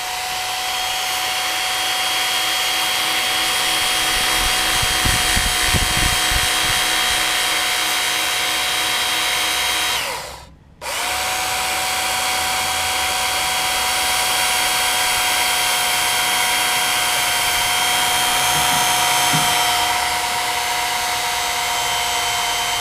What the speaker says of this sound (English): I'm just going to break the rules. I'm going to sharpen that hole with my belt sander.